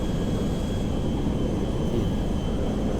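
A large airliner flying in GTA V, its engines giving a steady, loud broadband roar with a faint high whine held through the whole moment, no voices.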